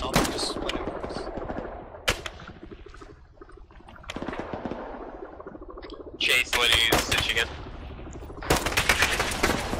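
Gunfire in the military shooter ARMA 3: repeated sharp shots and bursts, some distant and some close and loud, with dense firing in the last few seconds and a voice talking faintly between the shots.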